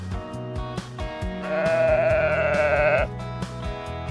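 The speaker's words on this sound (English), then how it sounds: "Here is a fluffy sheep." A single sustained sheep bleat rings out loud and close for about a second and a half, set over steady rhythmic background music.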